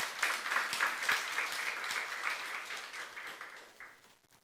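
Applause from a church youth-service congregation, steady dense clapping that fades out toward the end, moderately loud with no voices over it.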